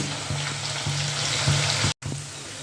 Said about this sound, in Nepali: लसुन र अदुवाको पेस्टलाई पनि एकछिन 2 मिनट जस्तो पकाउनु पर्यो